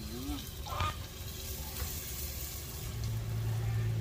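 A knob of butter sizzles in hot olive oil in a pot: a steady, close frying hiss that holds throughout and swells slightly toward the end.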